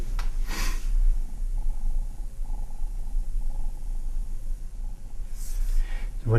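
A cat purring up close, a low, continuous rumbling drone that stays steady throughout, with faint thumps and small noises at the start and end.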